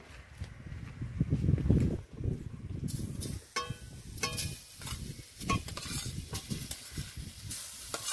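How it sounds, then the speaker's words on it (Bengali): Raw mango pieces are stirred and fried in a hot wok, with quiet scraping and clattering of a spatula over a light sizzle in irregular strokes and no talk. "কড়াই গরম হয়ে গেছে, আমগুলো দিয়ে দেব"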